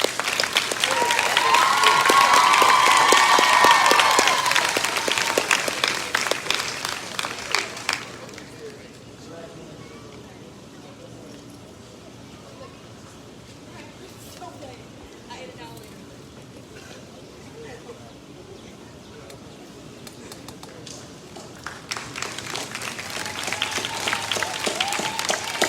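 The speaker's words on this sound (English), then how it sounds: "Thank you for joining me in that applause." Audience applause at a commencement ceremony rises loud and dense for several seconds, thins to a murmuring lull in the middle, then swells again toward the end.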